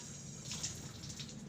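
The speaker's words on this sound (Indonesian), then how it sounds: "hidupkan keran, kemudian basahi telapak tangan" Water runs steadily from a turned-on tap as hands are wetted for handwashing, a soft, continuous faint stream with no talk.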